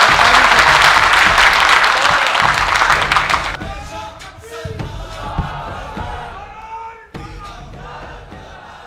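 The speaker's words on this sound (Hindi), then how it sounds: "मैं चाहूँगा अपनी ही जगहों पे खड़े होकर एक बार ज़ोरदार तालियां हो जाए" Loud audience applause with cheering from a crowd at a religious community program, sustained and dense for about three seconds, then fading into scattered claps, murmurs and voices.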